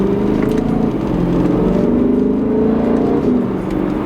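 A BMW E9X M3 with an aFe carbon fiber intake accelerates under load while driving, giving a loud, steady engine drone that holds for about four seconds.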